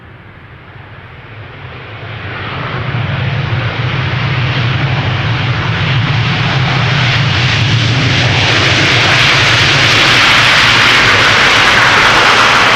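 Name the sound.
Boeing 787 Dreamliner arriving at Amsterdam Schiphol Airport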